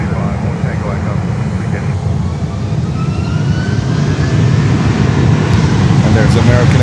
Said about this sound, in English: And there's American Airlines taking off here.